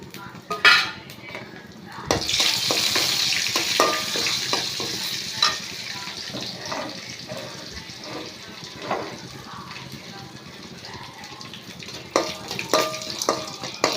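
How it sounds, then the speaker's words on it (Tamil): Fennel, cinnamon and bay leaves sizzle in hot oil in a pan for egg curry, a steady frying hiss broken by clinks and scrapes of a stirring spoon. "சோம்பு பட்டை இலை பிரிஞ்சி இலை எல்லாம் போட்டு எண்ணெய் காஞ்சிச்சு போட்டுடலாம்"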